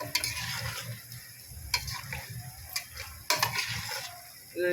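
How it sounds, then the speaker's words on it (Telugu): Thinly sliced onions fried in oil are stirred with fresh coriander for chicken biryani. A spatula scrapes and knocks the pan in uneven strokes over a steady sizzle, close and moderately loud, with no talking. "కొత్తిమీర ఒక్కసారి కలుపుకోవాలి"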